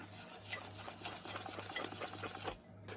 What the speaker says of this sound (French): Là maintenant, on peut tout mélanger.